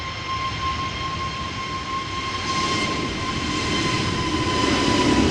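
A Kuwait Airways Airbus A320neo departs Amsterdam Schiphol, a distant, steady jet roar with a thin high whine, slowly swelling louder over a few seconds.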